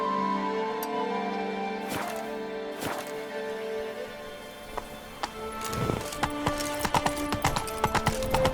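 Roach the horse's hooves in The Witcher 3: Blood and Wine clip-clop at a walk, with sparse steps early and a quicker, denser run of hoof hits in the last few seconds, all over steady tonal background music.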